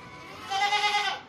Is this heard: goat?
yes